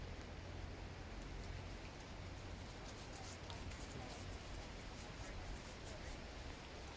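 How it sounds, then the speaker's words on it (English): Steady rain falling, a continuous even hiss of drops on surfaces that stays constant and fairly faint throughout, with no clear voices. "As the rain is coming down,"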